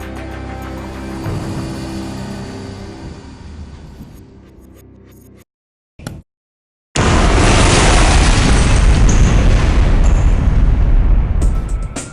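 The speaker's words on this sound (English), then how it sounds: "They insert a material, a special granulated explosive." A blast of special granulated explosive goes off deep in a salt mine, a heavy rumbling boom that dies away, then after a brief silence a huge roaring surge of noise erupts and sustains.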